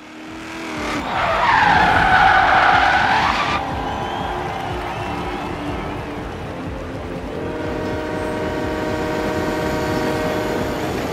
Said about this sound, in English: Train. Brilliant, isn't it?